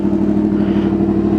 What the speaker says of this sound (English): It's a little loud right now because the face plates that go on the end of the muffler in here, I had to cut those off to gut the exhaust